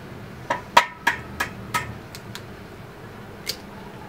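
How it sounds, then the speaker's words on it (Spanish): Four fresh eggs cracked one after another against a bowl, giving sharp close taps spaced about a third of a second apart, then a lone final knock in a quiet kitchen. "lo primero que comenzamos a hacer es cascar los ovos y poner donde vamos a batir los ovos"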